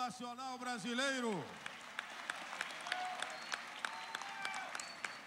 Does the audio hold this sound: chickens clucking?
no